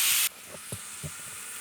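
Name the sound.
onions frying in pan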